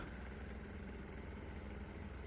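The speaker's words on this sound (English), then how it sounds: "The little diesel engine's been running on the test stand for about 30 minutes now." A small 3 horsepower diesel engine runs on a test stand under medium load, giving a steady, even drone that continues unchanged throughout with no voices.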